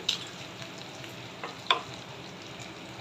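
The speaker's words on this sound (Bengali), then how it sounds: "এই যে পাবদা মাছের ডিমগুলোকে আমি ভাজা ভাজা করে দিব।" Pabda fish roe frying in oil in a pan, a steady quiet sizzle with a few light clicks and taps of a utensil.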